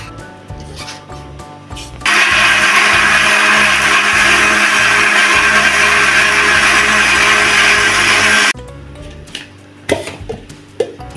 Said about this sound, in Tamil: அரைப்படுறதுக்காக கொஞ்சமாக தண்ணி ஊற்றி அரைச்சிக்கிறேன்.